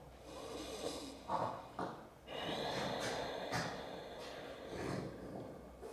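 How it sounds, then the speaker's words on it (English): Slow Ujjayi yoga breathing drawn in and out through the nose, with a soft hiss from the back of the throat; several rough, airy breaths with brief snort-like catches, close and fairly quiet, no talking. "we're going to use Ujjayi breath, breathing in and out through the nose, making that sound from the back of your neck"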